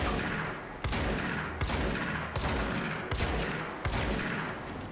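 Shotgun blasts from the video game Control, five heavy booming shots spaced roughly evenly under a second apart, loud and close, each with a long tail.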